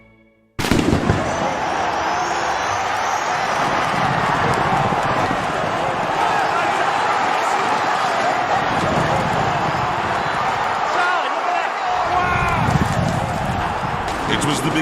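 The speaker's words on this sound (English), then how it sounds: "Home to the most exciting horse race in the world," Horses galloping in the Palio horse race in Siena's hilltop city square, a dense, continuous rumble of hooves and crowd roar filling the whole stretch, loud and close.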